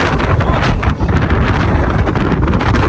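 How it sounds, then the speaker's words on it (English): Strong wind buffets the microphone outside Edinburgh Castle in Scotland, a loud, continuous roar with gusty surges and no voices throughout. "It was super windy outside"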